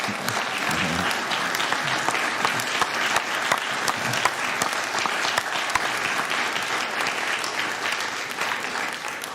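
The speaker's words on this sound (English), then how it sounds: "Why don't you stand up or give yourself a hand?" A crowd at a Hall of Fame induction ceremony claps steadily and loudly, dense continuous applause with a few sharper individual claps standing out, no talk over it.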